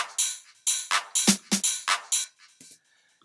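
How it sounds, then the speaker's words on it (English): A short house drum loop in a 909-style sound: crisp hi-hats with a snappy clap and snare landing on the off-beats, dry and fairly quiet, ending after a few bars. "the hi-hat, clap and snare,"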